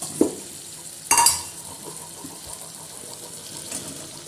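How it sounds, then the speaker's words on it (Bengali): Fried soybeans go into a hot pan of Bengali curry base, with a couple of sharp sizzling bursts as they land, then quieter frying and stirring noises close by. "এবার এর মধ্যে দিয়ে দেবো ভেজে রাখা সয়াবিনগুলো।"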